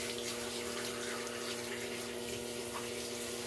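Running tap water rinses a small dog during a bath at home, a steady, fairly quiet hiss and splash that flows evenly throughout, with a faint hum beneath and no talking.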